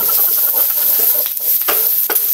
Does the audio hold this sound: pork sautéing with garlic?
yes